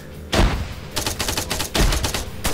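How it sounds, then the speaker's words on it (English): Frag grenades detonating in a competitive team shooter match, several loud booming blasts in quick succession with sharp crackling gunfire between them, close and dense. "Lots of frags going off."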